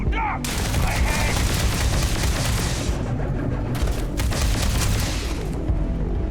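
Continuous loud gunfire during a firefight in the video game Starfield, dense overlapping shots and booms filling the whole stretch with only brief dips.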